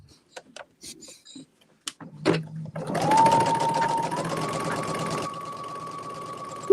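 Sewing machine stitching a seam on a quilt block, starting with a few short clicks and taps, then a steady whirring run for a couple of seconds before stopping.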